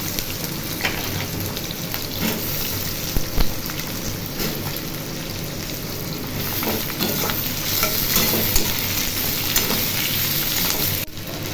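Potatoes sizzle and crackle steadily in a thin, scorching wok, with a continuous frying hiss and occasional stirring scrapes throughout.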